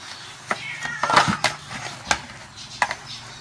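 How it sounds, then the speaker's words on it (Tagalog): A cat meows in short, repeated calls, several quick mews close by, mixed with sharp taps and knocks on a morning walk; no speech. "Mimiyaw-miyaw ka dyan."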